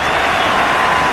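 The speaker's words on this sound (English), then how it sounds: "He gets a good round of applause." A large cricket crowd applauds Jacques Kallis reaching fifty during his final Test against India in Durban. Broad, steady clapping fills the whole moment, loud and continuous.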